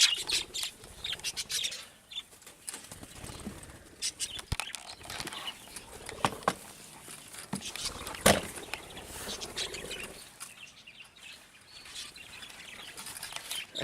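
Pet birds in an aviary chirp and tweet continuously at moderate distance, with scattered clicks, rustles and a few sharp knocks, over a low background hum.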